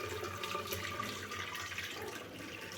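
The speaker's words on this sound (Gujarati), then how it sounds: "નીચે મેં એક વાસણ રાખેલું છે જેથી કરીને પાણી નીચે ગળાઈ જાય." Water draining through freshly strained homemade paneer into a vessel below, a steady soft trickle and splash that holds without pause.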